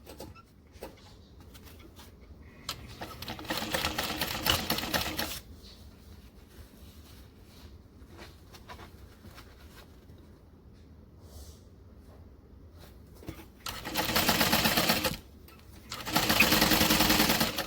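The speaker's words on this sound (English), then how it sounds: "I'm only going to stitch on the 2 lines I made" A sewing machine stitches fabric in two bursts, one of a couple of seconds early on and another split run near the end, each a rapid buzzing whir over a quiet room.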